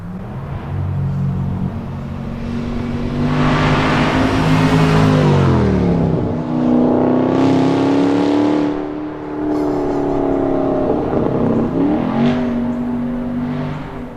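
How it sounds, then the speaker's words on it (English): A powerful Range Rover Sport engine revs and roars past, rising and falling in pitch as it shifts through gears, loud and close with no talking. "capture some footage of him coming around the corner and how the Rover sounds"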